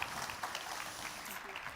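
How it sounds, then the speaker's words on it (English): An audience at an annual meeting's plenary lunch claps in a short, faint, steady patter, heard from a distance. "Give them a huge round of applause."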